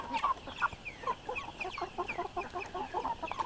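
Five-month-old backyard chickens cluck and murmur in their coop, a busy run of short, close calls that overlap steadily throughout.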